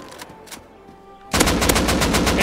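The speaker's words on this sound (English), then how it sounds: "They shoot through trees." Rapid automatic gunfire in the survival game Rust, a dense burst of loud shots starting abruptly midway after a quieter stretch of faint scattered shots.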